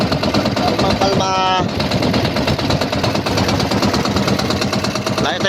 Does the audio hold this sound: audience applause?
no